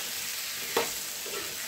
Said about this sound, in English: I am mixing them together with the oil